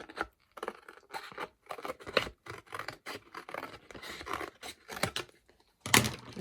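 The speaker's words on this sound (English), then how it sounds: "use your scissors to cut that cardboard" Repeated crunchy snips of scissors through stiff cardboard, irregular bursts close to the mic, ending in one louder rasping cut.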